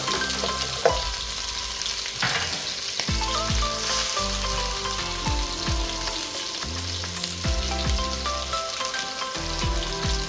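Garlic frying in a pan with pork ribs for kaldereta, a loud continuous crackling sizzle punctuated by repeated clanks and scrapes of a utensil stirring, close up and without speech.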